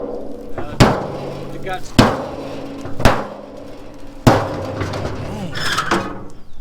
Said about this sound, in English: See that hammer you got? That's a nice hammer.